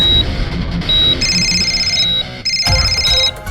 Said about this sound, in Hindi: अरे उठा ले फोन।